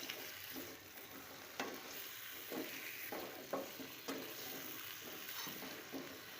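Potatoes frying with tomatoes in a pan, a soft, steady sizzle close by with several light stirring knocks and scrapes spaced through, no voices.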